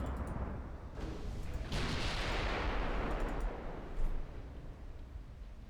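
Warship guns firing on light cruisers in the naval strategy game Ultimate Admiral Dreadnoughts, a continuous rumbling roar of distant artillery swelling into a dense, loud barrage with a heavier thump near the end.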